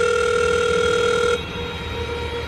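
Telephone ringing on the line just before a prank call, one loud electronic ring tone that cuts off partway, leaving a quieter line hum alone.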